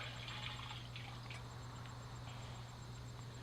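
Trap dye liquid pouring into a mix, a faint, soft trickle and splash of liquid over a low steady hum, with a few brief drips.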